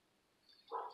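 Dogs barking in the background during an unboxing, a single muffled bark burst near the end after a quiet stretch, faint and distant.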